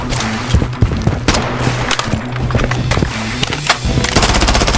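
Rapid automatic gunfire from the shooter game Blood Strike, loud and close, with bursts of sharp repeated shots and short gaps between volleys, ending in a fast sustained string of rounds.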